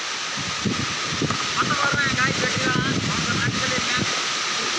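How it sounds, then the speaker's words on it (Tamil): A strong storm wind with rain batters and shakes trees, making a steady roaring, hissing rush throughout while people talk over it. "அந்த அந்தளவுக்கு பலமான காற்று அடிக்குதுங்க மழையும் பெய்யுது"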